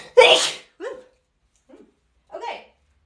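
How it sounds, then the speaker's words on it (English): A single sharp human sneeze bursts out close to the microphone, followed by a few faint breathy sounds and a soft exhale in a quiet room. "Oh, I gotta sneeze."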